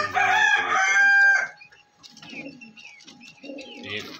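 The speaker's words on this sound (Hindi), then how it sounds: "और बाकी कबूतर" Pigeons kept alongside aseel chickens coo in low, soft bursts at close range, after a loud, drawn-out crowing call opens the scene.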